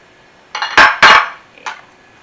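Pork chop soup ingredients stirred in a pot, giving two loud clanking scrapes close together, then a fainter clink after a short pause, with no voices.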